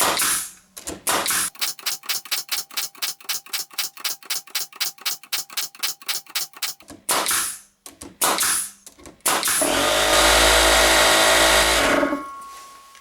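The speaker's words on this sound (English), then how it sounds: "Now I'm going to be shooting finish nails into 2 stacked 2x4s" Ryobi 16-gauge finish nailer drives nails into two stacked pine 2x4s in a quick, evenly spaced run of loud sharp shots, then a few scattered clunks before an air compressor kicks on with a steady, loud hum.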